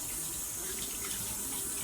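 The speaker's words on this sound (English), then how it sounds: "So then I'll get some hot water" Hot water runs steadily from a tap into a sink, a constant close hiss and splash with no talking.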